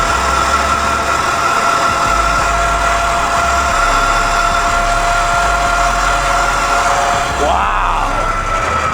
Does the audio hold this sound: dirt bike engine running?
yes